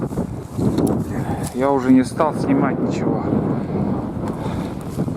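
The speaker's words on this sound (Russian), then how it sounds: "Ну, ветрище, здесь вообще сильное ветрище." Strong wind in the taiga roars steadily across the microphone as a broad, continuous rush, with someone speaking over it throughout.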